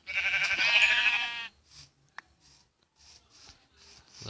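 A video-game sheep gives one loud, wavering bleat up close, followed by quiet soft rustles and small clicks.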